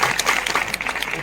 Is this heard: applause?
yes